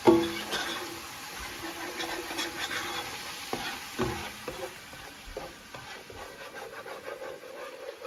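Ginger garlic paste and spices frying in a pan for cholay, a steady close sizzle broken by repeated scraping stirs and small clatters, with no voices.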